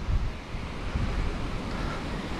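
Steady surf at Playa Mamitas beach, a broad, continuous wash of breaking waves mixed with wind buffeting the microphone, fairly loud and with no talk.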